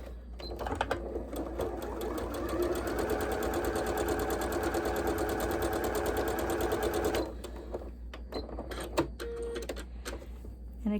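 A sewing machine stitches pieces of a log cabin quilt block in a steady, fast run of needle clatter lasting several seconds, followed by scattered handling knocks and small clicks.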